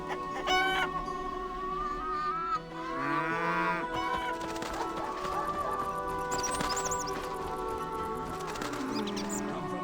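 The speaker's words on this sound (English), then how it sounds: "Look here, our champion cow." A cow lows in The Witcher village farmyard, long drawn-out moos near the start amid livestock ambience, with hens clucking and other farm animals calling throughout at moderate volume.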